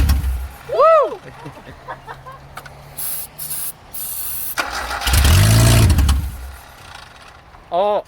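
A Ford Festiva rally car engine cranks and sputters toward starting, with a loud burst of brake-cleaner spray and excited voices cheering between the cranking attempts.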